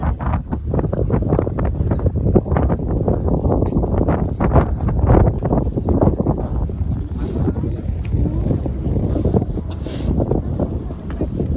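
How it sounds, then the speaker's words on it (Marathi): Strong wind buffeting the microphone atop Sagargad hill fort near Alibaug, loud continuous rumbling gusts with a person talking under it. "खूपसूरत वारा झाला"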